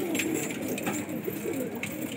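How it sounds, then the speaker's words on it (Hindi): Pigeons coo softly in repeated low throaty calls, with other birds and faint background chatter around them. "ये दूसरे नए कबूतर हैं"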